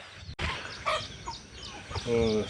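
Native country chickens on a farm, several close clucks and short calls among general yard noise, with a brief sharp click near the start and a sustained cackle toward the end.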